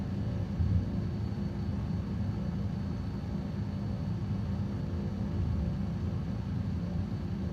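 An airplane engine in MS Flight Simulator drones as a steady, low rumbling roar with a hissing noise layer, constant and unbroken throughout with no talk.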